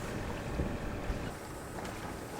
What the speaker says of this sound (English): So the wind's kind of behind just to the side of us, so Ryan's gonna put a jibe preventer on